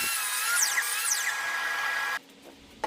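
A power saw bites through wood boards one after another against a stop block for a study desk build, a loud steady whining cut with two sweeping pitch changes, then dropping abruptly to quiet near the end.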